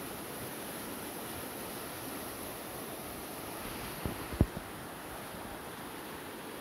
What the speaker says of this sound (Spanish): Imagínense cruzando ahorita este río. Va a parar allá la poza porque aquí va chiflonudo.